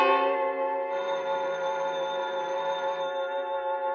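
Telephone bell ringing in a radio drama, a sustained bright metallic ring holding steady for the full four seconds, loud and alone with no talk.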